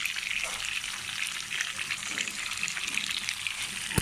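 Chicken tikka frying in a fry pan, a continuous bright hissing sizzle with crackling spits and some stirring scrapes, steady and close up, no talking.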